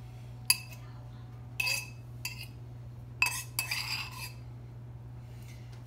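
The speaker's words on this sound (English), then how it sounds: "I should be able to just mix it with my butter knife." Butter knife clinking against a dish while mixing and spreading butter for cinnamon pinwheels, a few sharp metallic taps and scraping strokes, close and moderately loud over a steady low hum.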